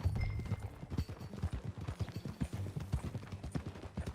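Horse hooves clip-clopping at a steady walking rhythm, close and fairly quiet, a regular series of soft knocks with no voices over them.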